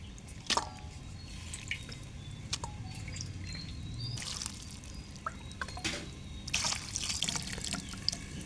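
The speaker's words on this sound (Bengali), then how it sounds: "যেই ফুলকি আর রসুনের পাতা কেটে রেখেছিলাম, সেটা এবার ভালোভাবে ধুয়ে চালের মধ্যে দিয়ে দেব।" Chopped cauliflower and garlic leaves are washed in water, with quiet splashes, drips and wet squishing sounds coming in scattered bursts close by.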